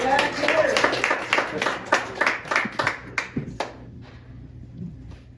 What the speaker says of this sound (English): Round of applause for Mr. Powell.